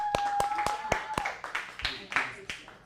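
A small group claps in a teen acting class: sharp, evenly spaced handclaps that loosen into scattered claps, with a whooping voice and some chatter over them.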